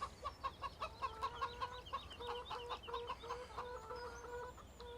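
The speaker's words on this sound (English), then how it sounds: "Here are our chickens." Farmyard chickens in Farming Simulator 17 cluck in quick repeated bursts, several birds overlapping in a lively, moderately near chorus with no voices.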